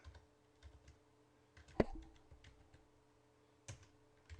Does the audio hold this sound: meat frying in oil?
no